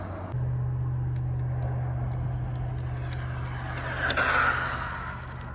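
An Arrma Limitless V2 RC car on a 3S battery with a 4,000 kV motor and belt drive runs steadily at a fairly constant level for several seconds, building briefly to a louder whine before it eases off.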